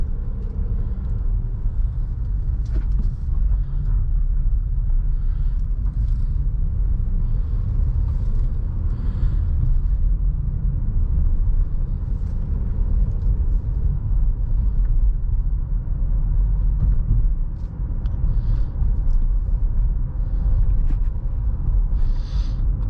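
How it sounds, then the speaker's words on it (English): A 2022 Honda Pilot Special Edition drives on the road, heard from inside the cabin as a steady low rumble of engine and tire noise, continuous and even throughout with no talking. "we will take this Honda Pilot out on the road and see how it drives"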